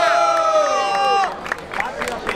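A crowd cheers and yells at a rap battle final, loud whooping and shouting voices that rise together and then break into scattered cheers and claps.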